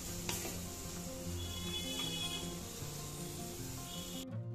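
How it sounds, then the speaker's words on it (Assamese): Dhekia fern greens frying in mustard oil in a wok, giving a steady, close sizzle with a few faint stirring scrapes and no talking. "লৰাই আৰু মই পাঁচ মিনিটমান ভাজিম, যাতে গোটেইখিনি ঢেকীয়াকে মোৰ ভালদৰে সিদ্ধ হয়"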